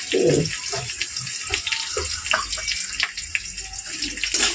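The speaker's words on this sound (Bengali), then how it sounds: "আমরা এটা কী করবো অন্য একটা বাটিতে নিয়ে ধুয়ে দেবো" Tap water runs into a bowl while parse fish are washed by hand: splashing and trickling with uneven swishes and bursts close up, no voices.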